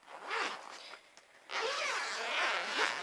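The zipper on a Nash carp fishing rod pod bag is pulled open in two rasping runs, a short first pull and then a longer steady one after a brief pause, close and clear.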